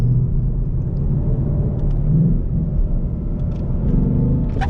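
A 2018 Ford Mustang GT's engine in sport mode rumbles steadily from inside the closed cabin while downshifting on a highway, a deep continuous drone with slight swells in revs and no talking.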